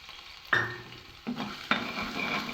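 Ginger and garlic frying in oil, with three separate stirring strokes that each scrape and rustle through a soft, steady sizzle; no one speaks.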